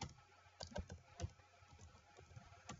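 Keys clack in quick irregular bursts as someone types on a computer keyboard at a desk, the taps close but quiet against a low room hum.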